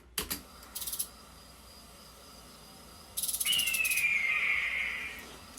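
An eagle cry sound effect in a sound design edit: a shrill descending screech rings out near the end after a few sharp clicks and bursts of crackly noise, fairly faint overall.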